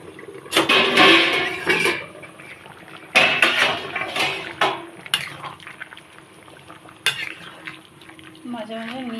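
A lid goes onto a cooking pot of jackfruit, spinach and prawn curry, giving a few sharp metallic clanks and scrapes, then quieter clinks over a soft simmer.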